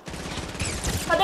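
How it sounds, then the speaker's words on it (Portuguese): Rapid automatic gunfire in the video game Fortnite, a dense burst of shots lasting about a second, loud and close, with the game's background sound under it. "bem na hora que eu dei o tiro nele"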